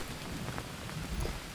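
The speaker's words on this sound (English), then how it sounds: "But it's still raining." Steady rain falling in the jungle survival game Green Hell, a soft continuous patter of drops on foliage and ground with a faint low rumble, heard alone without any talking.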